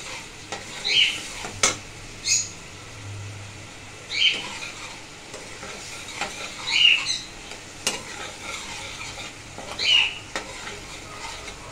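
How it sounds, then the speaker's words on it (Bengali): Food is stir-fried (kosha) in a pan with a steady low sizzle under repeated scraping strokes of a spatula against the pan, coming in regular bursts at close range. "ভালো করে কষাতে হবে"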